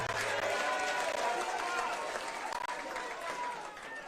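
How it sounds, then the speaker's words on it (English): Loud, dense crowd applause with cheering fills the whole stretch, welcoming Kenyan politician Raila Odinga to the stage at a rally-style event, steady and broad before easing slightly near the end. "Another loud of applause for Baba wa kila mtu."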